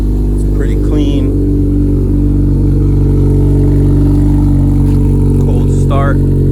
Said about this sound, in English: You guys can hear the full race exhaust.